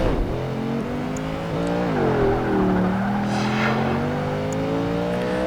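Porsche 959 engine in the racing video game Project Gotham Racing 2, a loud, steady revving drone that climbs through the gears with pitch rising and dropping at each shift, heard close and alone with no talk.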